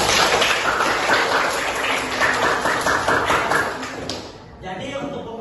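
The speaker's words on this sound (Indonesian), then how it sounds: "Tepuk tangan untuk kita semua dulu." Applause from a classroom of children, a steady burst of clapping that carries on for several seconds, then cuts off abruptly and gives way to quieter room sound.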